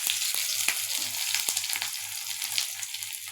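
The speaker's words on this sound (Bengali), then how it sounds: "এরপরে কটা রসুন দিয়ে দিলাম আর দুটো পেঁয়াজ দিয়ে দিলাম। এগুলো একটু ভালো করে ভেজে নেব।" Garlic and onions fry in hot oil in a pan, a steady close hiss and crackle with a regular low pulsing thump beneath and a few sharp pops, no talking.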